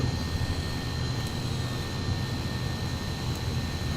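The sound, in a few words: Fairey Gannet aircraft engine in video game Flight Simulator X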